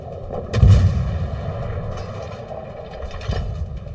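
Naval gun salvos from warships in the video game World of Warships boom with a heavy low thud, followed by a lingering rumble and a second softer blast near the end, with no speech.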